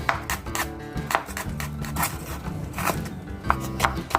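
Knife chopping ingredients into small pieces for a beef khao soi curry paste on a board, a steady run of close, crisp thuds with brief pauses.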